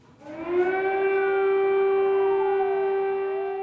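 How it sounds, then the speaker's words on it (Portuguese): An air raid siren in Kyiv, Ukraine winds up and holds a loud, steady wailing tone, its pitch sliding slightly as it sounds alone for several seconds. "O som aterrorizante da sirene na capital da Ucrânia"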